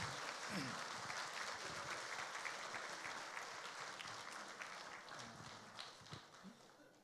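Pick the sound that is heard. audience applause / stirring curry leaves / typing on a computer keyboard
audience applause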